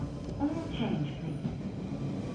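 A Central Line train on the London Underground near Epping station rumbles steadily and fairly quietly, with rail noise throughout and a voice faintly present over it.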